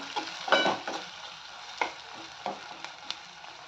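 Ginger paste fries in a pan for an egg curry with cluster beans, giving a soft sizzle broken by several sharp scraping stirs of a spoon against the pan.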